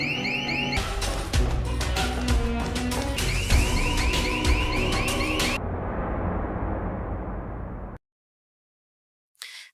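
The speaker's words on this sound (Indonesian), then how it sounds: "Namun ternyata sandinya berbeda sehingga membunyikan alarm." A security alarm in a Korean drama blares, set off by a wrong code: a loud, steady electronic alarm with repeating pulsing tones and warbles, cut off abruptly, followed by near silence and a brief burst at the end.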